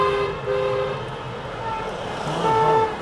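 Car horns honk at a street rally in support of Azov, several steady tonal blasts sounding in short bursts over crowd noise and traffic, fairly close and loud.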